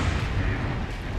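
A rocket blast in the video game Resident Evil Requiem, a deep, dense booming roar that fills the whole short moment with no gap.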